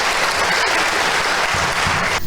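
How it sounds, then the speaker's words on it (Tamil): Audience at a Tamil debate event claps steadily, a dense, even wash of applause from a sizeable crowd that cuts off abruptly at the end. "எவ்வளவிற்கு நீங்கள் கரகோஷம் செய்து உற்சாகப்படுத்துகிறீர்களோ அவ்வளவிற்கு இந்த நிகழ்ச்சி சிறப்பாக"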